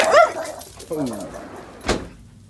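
A dog barks and yips a few times, loud and close at the start, then whines and gives a sharper yelp near the end, with voices talking around it.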